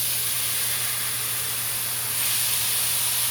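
A steady, bright hiss of onions and peas frying in a pan over medium heat, continuous and close, growing slightly louder toward the end.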